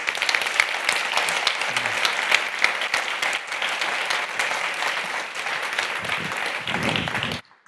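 Conference audience at a carbon removal event in Basel applauding a speaker onto the stage: dense, steady clapping from a large crowd, holding even for several seconds before stopping abruptly.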